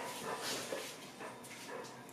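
A hungry dog whines and whimpers for food in short, high-pitched bursts over a steady background hiss, close by and moderately loud.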